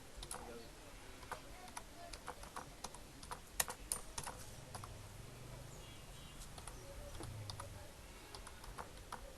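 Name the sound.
typing on computer keyboard, entering name in Excel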